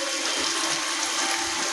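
Rainwater is collected on a rooftop terrace, a steady close rush of running, splashing water filling a container, continuous and alone.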